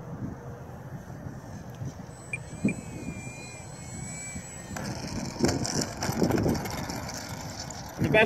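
A Parkzone Sport Cub S2 RC airplane in flight, its small electric motor whining thinly in the distance and rising in pitch as the throttle opens, with wind buffeting and a voice talking alongside.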